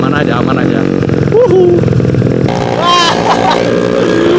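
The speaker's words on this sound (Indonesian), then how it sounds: "Udah kayak knalpot diesel ya guys ya" A Yamaha Mio scooter with a 200cc engine runs with a loud, gruff exhaust that sounds almost like a diesel, droning steadily and close throughout while someone talks over it in a forest.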